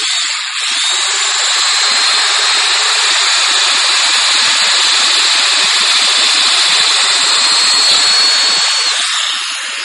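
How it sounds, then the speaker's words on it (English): A domino joiner cuts a 5x30 pocket into wood, giving a loud, steady, airy whir that holds for nearly ten seconds without a break. "And there we just cut a domino pocket."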